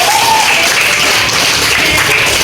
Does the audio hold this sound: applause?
yes